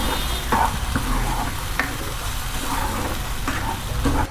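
Vegetable kofta curry masala frying until the oil separates, with a continuous close sizzle under repeated scraping and stirring strokes of a spoon against the pan.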